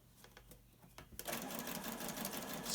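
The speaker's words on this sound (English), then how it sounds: "Sew on down to the elastic." A sewing machine stitches elastic onto a fabric face mask, with faint ticking at first, then a steady loud mechanical whir of rapid stitching.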